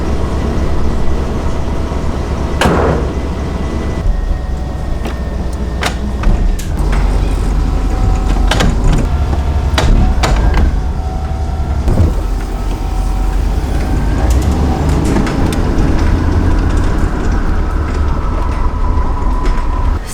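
A repaired bus drives slowly around inside a shop: a loud, steady engine rumble with rattling, clattering body noise and occasional knocks, heard from inside the vehicle.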